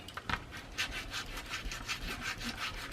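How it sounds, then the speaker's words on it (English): A bone folder or burnishing tool rubbed firmly back and forth over a plastic mini album cover, making repeated close scratchy strokes in a steady rhythm with no talking. "Give that a good burnish."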